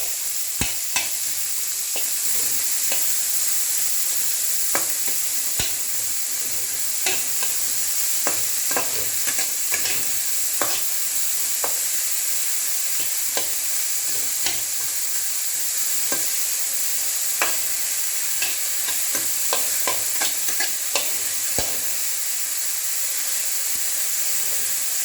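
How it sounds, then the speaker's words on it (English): Onion sautéing in a pan gives a steady close sizzle and hiss, broken by frequent sharp scrapes and taps of stirring, with no talking. "Onion, we sauteed onion"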